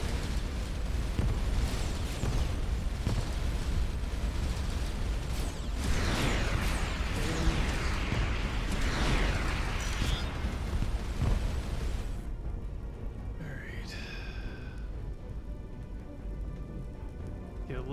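Missile explosions in the space game Starcom: Unknown Space, a continuous rumbling barrage of blasts and crackling bursts that thins out into quieter hum with a few electronic chirps.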